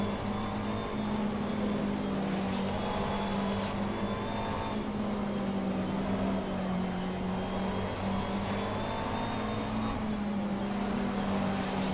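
GT3 race car engines in the racing simulator rFactor 2 during an endurance race, a continuous droning whine from the car's own engine that holds a sustained pitch with slight rises, loud and steady with no talk.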